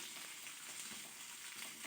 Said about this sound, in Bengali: এবার ঢ্যাঁড়সটা ভাজলেই আমার 5টা সবজি ভাজা কমপ্লিট হয়ে যাবে